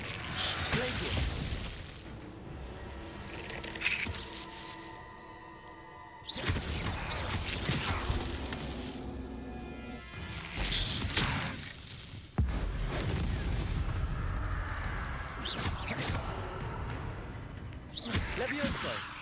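A Glacius spell is cast in Hogwarts Legacy during a fight, with booming, broadband magical bursts and swells over ongoing combat noise, loud and close, in several separate surges.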